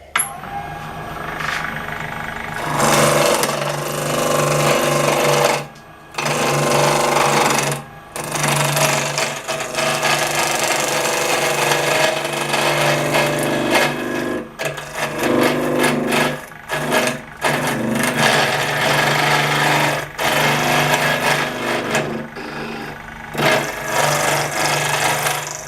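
A wood lathe turns a colored pencil pot in a steady, loud whirring drone, broken by a few short pauses where the spinning cuts out, with no talking.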